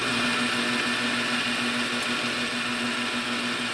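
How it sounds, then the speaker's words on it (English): Metal lathe taking a deep 100 thou cut, the tool chattering in a loud constant whine with a steady droning hum, close and uninterrupted. "That's why it's making such a clatter. So here we go. This is a 100 thou cut."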